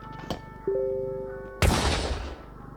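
A few sharp gunshot-like blasts, one loud boom with a long fading tail, set against a steady electronic hum, from gunfire in the video game R.E.P.O.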